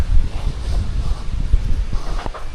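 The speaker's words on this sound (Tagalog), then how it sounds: "Marangkada na naman yung hangin mga birds oh." Strong wind blows outdoors with a steady, rough low rumble and buffeting against the microphone, continuous throughout with no clear voices.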